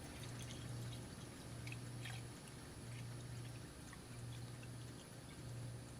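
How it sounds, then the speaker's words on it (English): Water pours into a portable electric kettle in a quiet room, a soft, faint trickle with a gently pulsing rhythm and no speech. "I'll go ahead and pour water in"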